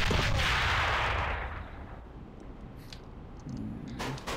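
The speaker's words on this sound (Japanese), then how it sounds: "手榴弾投擲。" A grenade explodes in the online shooter AVA, a loud, close blast with a rumbling tail that fades over about two seconds, followed by faint gear clicks and footsteps.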